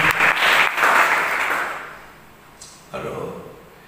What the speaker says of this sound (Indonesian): Beri tepuk tangan terbaik.